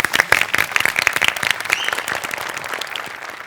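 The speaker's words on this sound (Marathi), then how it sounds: "टाळ्या." A studio audience at an award presentation on a Marathi comedy show claps in a dense, lively burst that tapers gradually.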